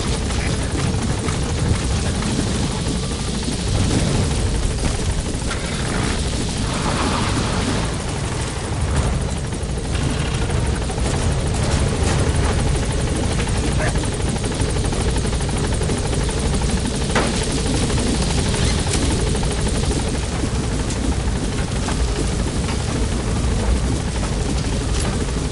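Helicopter in Metal Gear Solid V hovering near a landing zone, its rotor churning as a steady, loud, dense roar for the whole stretch with no pauses or talk over it.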